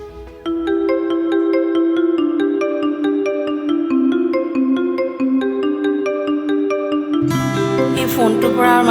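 A mobile phone ringtone plays loud and close for several seconds, a looping melodic tune of bright synthetic notes that shifts to a higher, busier phrase near the end, with no voices.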